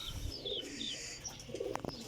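A long-established-breed racing pigeon coos softly in a loft, its low repeated coos running alongside a few higher bird chirps, with a brief rustle of wings toward the end.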